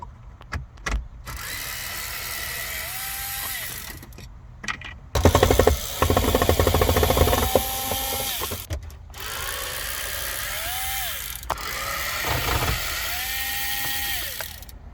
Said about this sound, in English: Once you get all of these screws out, you can remove the part of the dashboard.